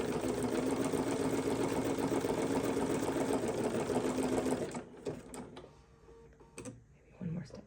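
A sewing machine stitches a label onto the corner of a quilt with a fast, steady mechanical whir up close, then stops abruptly, leaving faint handling clicks and taps with some quiet talk in the background.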